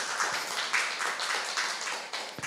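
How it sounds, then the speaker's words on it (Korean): A lecture audience in a Korean talk on Jesus claps together in a short, dense burst of applause that carries steadily through the room without a break. "한번 박수 칩시다"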